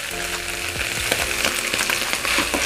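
Chopped leeks stirred into a frying bamboo shoot lumpia filling, with a loud close sizzle and repeated scraping strokes of a spatula across the pan.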